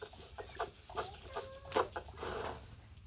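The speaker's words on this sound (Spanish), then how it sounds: "Ay, el pollo, yo vi que para acá había soltado el pollo." A loose chicken clucks several times in short bursts in a home kitchen where homemade cheese is being made, with faint background clatter and no talk.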